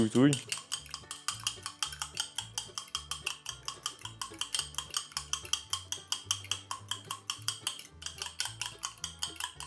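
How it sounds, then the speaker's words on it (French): A utensil stirs mug cake batter inside a mug with quick, regular clinking taps against the ceramic. The taps run as a near, steady rhythm throughout, with no talk over them. "Et maintenant, on verse doucement. On touille."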